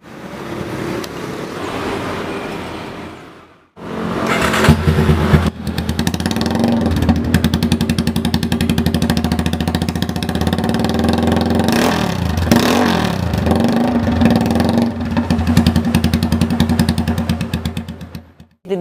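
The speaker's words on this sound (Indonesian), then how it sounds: "cek aja gimana sih suara dari knalpot free flow Yamaha Scorpio konsep bobber" A Yamaha Scorpio bobber motorcycle with a loud free-flow exhaust starts up after a brief cut, then idles and revs in rough, throaty bursts, close by.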